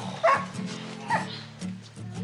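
A dog yips and barks in short bursts indoors at home, two or three sharp yelps over a low steady hum, with people talking around it.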